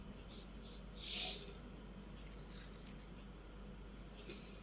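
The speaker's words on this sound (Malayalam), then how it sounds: "കടുക് നന്നായിട്ട് പൊട്ടുന്നുണ്ട്." Mustard seeds pop and spit in hot coconut oil in a pan during curry preparation, with sparse faint crackles and a brief louder hiss-like burst over a quiet background.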